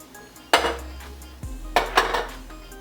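White beans tossed into a cooking pot in a multicooker kitchen, giving two sharp clattering impacts with short rattling tails, close and clear, with no talking.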